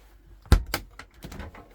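A freezer door in a Rimor Catamarano 209 motorhome is pulled open with a sharp close thunk, then a few lighter clicks and rattles as it swings, heard alone and close.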